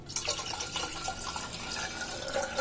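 Jaggery water poured steadily into a dish for a Ugadi festival recipe, a continuous close splashing trickle that runs the whole time with no talk.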